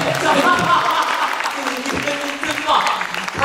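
Applause at the Ten Outstanding Young Persons award ceremony, clapping mixed with voices talking over it, fairly loud and close throughout.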